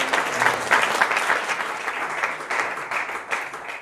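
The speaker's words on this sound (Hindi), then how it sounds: "जोरदार तालियों से स्वागत करें डॉक्टर बेनीवाल जी का" Indoor audience welcomes guest Dr. S P S Beniwal at Pantnagar with loud, steady applause, a dense wash of many hands clapping that stays strong for several seconds, with no talking over it.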